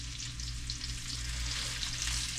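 Food fries in a very hot pan with pecans and coconut, a steady loud sizzle and crackle close by with a low background hum and no talk.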